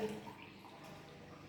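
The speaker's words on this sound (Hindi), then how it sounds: "बीकर रखा, अब हम इसमें पानी डालेंगे।" Water being poured into a glass beaker during a school science demonstration. A soft, steady trickle and splash runs throughout, faint and close.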